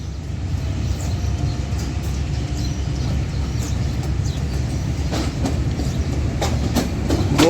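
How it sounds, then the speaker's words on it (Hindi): The Jaffar Express bound for Quetta, hauled by ZCU 20 locomotive 6415, rolls into Lahore railway station with a steady rumble and clickety-clack of wheels that stays loud and close throughout, with brief sharp rail clanks near the end. "कोयटा जाने के लिए जाफ़र एक्सप्रेस, वो आ रही है मेरे सामने।"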